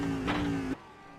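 Race car engine in iRacing at Suzuka, held at a steady whining pitch as it swings onto pit lane, then cutting off abruptly after under a second, leaving near silence.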